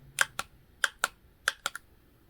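A Blink video doorbell's button is pressed repeatedly, giving about seven to eight sharp, light plastic clicks in quick, uneven succession, close and quiet against a near-silent background.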